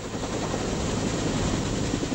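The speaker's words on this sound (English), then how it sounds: "General Hollingsworth mounts his personal helicopter, Dynamite 6, and takes to the skies" General Hollingsworth's personal helicopter, Dynamite 6, taking off, heard as a steady, loud, close rotor-and-engine roar with a constant low rumble and broad whine, with no voices.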